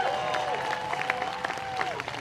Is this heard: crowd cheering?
yes